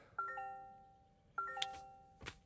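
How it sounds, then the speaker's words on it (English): A 2026 Toyota RAV4 sounds its start-up chime, two clear bell-like ding-dong tones in succession with a light click between, inside the quiet cabin, followed by a soft thump. "I was hoping that I would change the chime in the new generation RAV4"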